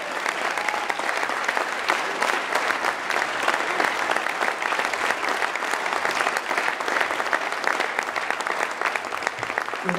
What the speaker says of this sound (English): how about a big round of applause for Mark Sentoshi Russo?